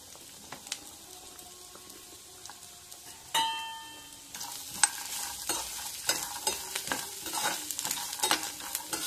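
Chopped coconut pieces being stir-fried in a pan with a spoon of oil, a light sizzle under scraping and clinking stirring strokes that get busier and louder partway through.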